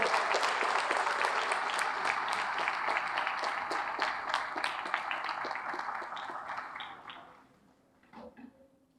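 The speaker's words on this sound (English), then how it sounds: "How about a round of applause for firefighter Richard D. Garza?" A crowd at a firefighters' awards banquet applauds, with dense, loud clapping that holds steady and then thins out toward the end, leaving a few scattered claps and faint voices.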